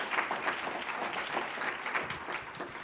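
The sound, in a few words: audience applause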